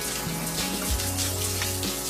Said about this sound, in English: So now I'm going to rinse everything.